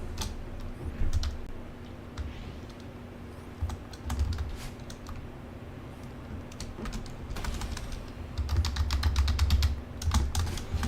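Computer keyboard keys clatter in uneven bursts during gaming, quick clicks and brief pauses, close and moderately quiet over a low steady background hum.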